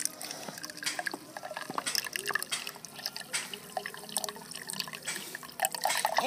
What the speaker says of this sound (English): And your precious drinking water will come out.